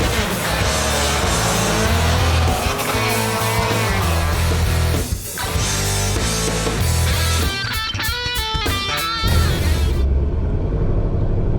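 A car cruises around a neighborhood, its engine rumbling steadily from close by with shifting tones and a brief surge near the end, no talk over it.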